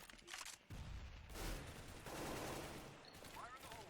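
Rapid gunfire in the CS:GO video game, shots sprayed at windows, a dense, fairly quiet rattle of bursts running through the whole stretch, with someone talking over it.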